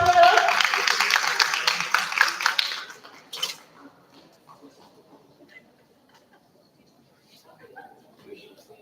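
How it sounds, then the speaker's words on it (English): Applause from an audience at an MSME event, a dense burst of many hands clapping for about three seconds before fading into quieter room noise. "A huge round of applause for her."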